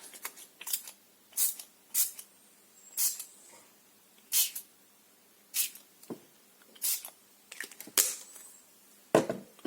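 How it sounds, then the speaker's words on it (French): Short bursts of spray paint hiss in close against a black surface, about ten separate sharp sprays in an irregular rhythm, each a second or less with quiet gaps between. "j'ai fait un spray de très près pour que vous puissiez peut-être mieux voir la couleur"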